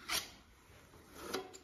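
A putty knife spreads crack-filling putty over a cracked wall with firm, rasping scrapes: two short strokes about a second apart, close and fairly quiet.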